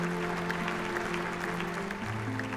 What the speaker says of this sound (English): Let's give a round of cheer for our graduates.